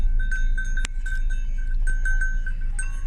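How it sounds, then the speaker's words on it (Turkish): Several cowbells on cattle in Akdağ Nature Park, Sandıklı, Afyonkarahisar clank irregularly at close range, with a sharp louder knock near the start, over a steady low rumble and outdoor background noise. "Böyle pencereyi de açarsak çan seslerini duyabiliriz."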